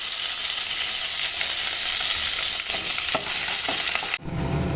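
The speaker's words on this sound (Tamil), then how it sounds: "ஒரு தாளிப்பு கொடுத்துடலாம். கொஞ்சம் கடுகு, வெங்காயம், கருவேப்பிலை," Mustard seeds, onion and curry leaves fry in hot oil for a tempering, giving a steady, close, bright sizzle with a few soft stirring clicks before the sizzle suddenly drops away at the end. No talk.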